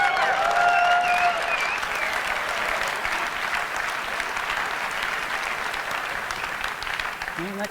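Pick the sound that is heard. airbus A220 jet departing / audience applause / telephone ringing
audience applause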